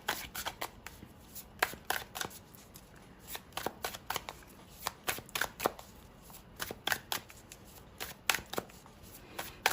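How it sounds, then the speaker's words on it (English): A deck of tarot cards is riffled and shuffled by hand in repeated crisp bursts of flicking snaps, close up and clear against a quiet background. "we're going to shuffle these up"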